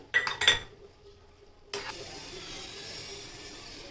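A spoon clinks sharply several times against a pan while stirring cardamom powder into semolina. A quiet scraping hiss of the mixing follows.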